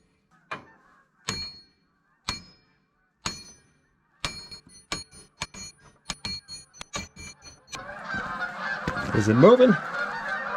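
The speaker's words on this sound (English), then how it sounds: "The geese are applauding. It's a lot of them." A large flock of geese honks in a loud, dense chorus that swells near the end, after a run of sharp metallic clanks from chain and track work; a voice speaks briefly.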